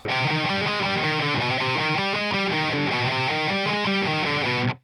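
An electric guitar plays a section with distorted tone, a fast repeating pattern of picked notes ringing out clearly and alone before stopping abruptly.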